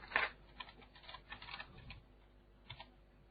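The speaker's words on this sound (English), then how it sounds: "So I double click the element and type in" Clicks and typing on a computer keyboard as values are entered into a circuit simulation program: a sharp click, then a quick run of soft keystrokes, a pause, and a few final taps, close and quiet.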